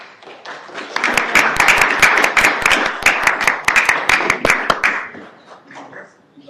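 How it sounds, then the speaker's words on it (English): Brief burst of applause at a town council meeting in Morrisville, North Carolina, many hands clapping steadily for about four seconds before fading out, fairly close and loud. "A little applause."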